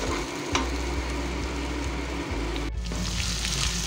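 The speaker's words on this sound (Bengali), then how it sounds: "এবার এই সময় এর মধ্যে দিয়ে দেব আদা, রসুন, কাঁচা লঙ্কা আর পেঁয়াজের পেস্টটা দিয়ে এটা 2 মিনিট ধরে ভালো করে কষিয়ে নেব।" Ginger, garlic, green chilli and onion paste fries in a pan for cauliflower rezala, giving a steady close sizzle with stirring scrapes and a brief break near the end, no voices.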